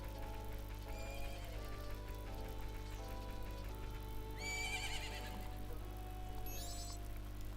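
A horse in the video game Zelda Majora's Mask at the Romani Ranch gives a loud whinny, followed by clip-clopping hooves. A steady game-music bed runs beneath, with a second neigh near the end.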